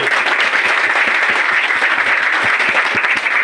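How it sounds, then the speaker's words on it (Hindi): Sustained audience applause at a marketing seminar, a dense even wash of many hands clapping, loud and continuous for the whole stretch with no talk over it. "आपने ताली बजाई सुन के, है ना?"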